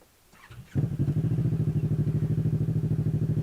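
A Kawasaki Teryx KRX 1000 side-by-side with an MBRP slip-on sport exhaust starts off quietly, then roars up to a loud, steady, throbbing engine drone with a fast pulsing beat that holds through the rest of the clip.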